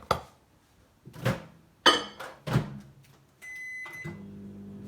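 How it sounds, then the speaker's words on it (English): A few sharp clunks and knocks, like a door shutting and buttons pressed, then a steady low hum of a microwave oven starting to run. "Okay, I'm gonna microwave it."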